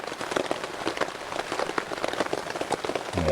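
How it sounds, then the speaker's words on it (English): Heavy rain pours steadily on a chilly, wet day during outdoor spit roasting, a dense close hiss of drops with no talking. "Oh, this rain is coming down right now."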